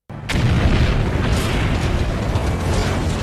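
A meth lab blows up in a film scene: a sudden loud blast bursts in, then a sustained, heavy rumbling roar keeps going without easing.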